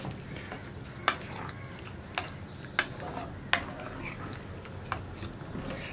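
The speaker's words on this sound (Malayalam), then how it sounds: "ഇതിനിയൊന്ന് നന്നായിട്ടൊന്ന് ചൂടായി വരുന്നത് വരെ ഇളക്കി കൊടുക്കുക" A spoon stirs pumpkin and tomato curry (mathanga ozhichu curry) heating in a pan, giving sparse, quiet clicks and taps against the pan over a soft, steady simmering hiss.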